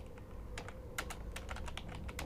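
Faint, close keyboard typing with scattered clicks and short bursts of keystrokes over roughly two seconds against a low background hum, with no voices.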